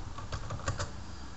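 Computer keyboard keys tapped in a short, quick burst of several soft clicks, close and fairly quiet.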